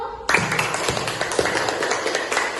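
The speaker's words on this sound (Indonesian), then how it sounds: "tepuk tangan untuk kelompok 1" Children clapping for a class group in a classroom, a burst of uneven, close hand claps starting abruptly and continuing at a lively, irregular rhythm.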